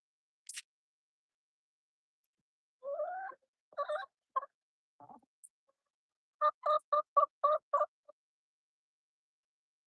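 Backyard chickens in Arizona heat being tossed tomatoes, giving short clucks and a rapid run of squawking calls in bursts, fairly close amid quiet gaps.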